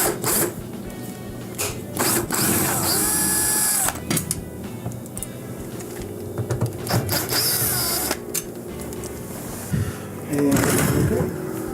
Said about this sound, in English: Now we're going to remove the 2 Phillips screws here